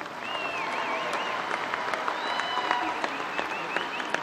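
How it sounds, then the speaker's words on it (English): An audience at an Angelo State University fall commencement in 2016 applauds graduates. The clapping is dense and continuous, and a few whistles or cheers rise above the crowd throughout. "Please honor these graduates with a round of applause."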